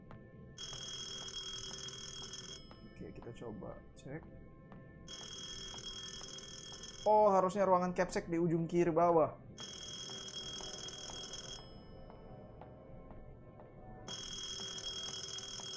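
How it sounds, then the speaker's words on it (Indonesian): Telephone ringing in the horror video game Detention, sounding in repeated bursts of bell-like trills separated by short pauses while someone talks over the scene, with a louder speech outburst in the middle. "ada bunyi telepon"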